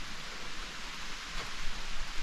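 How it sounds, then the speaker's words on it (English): Rain begins falling in a Pennsylvania state forest, a steady soft hiss of drops on leaves and ground that swells slightly toward the end, close and continuous with no talking. "I just sat down getting ready to eat lunch and it started raining."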